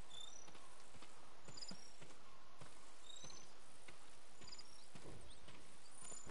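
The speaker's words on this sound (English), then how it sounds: "I hear those crickets." Crickets chirp softly in the background alongside faint pattering clicks, a quiet night ambience in the video game Ghost of Tsushima with no talking.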